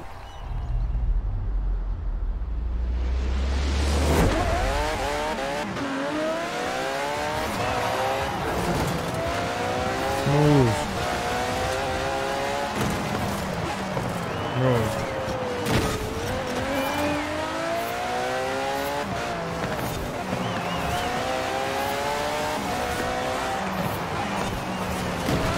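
Aston Martin Vulcan racing in Forza Horizon 4, its engine revving hard with rising and falling gear sweeps and tire squeal, loud and continuous for most of the stretch after a brief quieter start.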